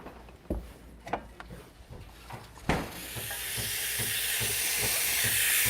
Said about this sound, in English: I'm going to steam some milk here